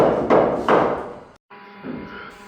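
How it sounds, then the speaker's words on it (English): A pneumatic nailer drives nails to join dense LVL beams on a subfloor job, giving two loud close thumping shots about half a second apart, then a brief cut-off and a quieter steady hum. "we're going to nail those LVLs together with the pneumatic nailer"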